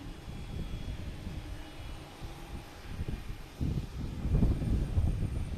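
An airplane passes at Boston Logan Airport, a low, rumbling engine roar that swells and grows louder toward the end, with wind buffeting the microphone outdoors.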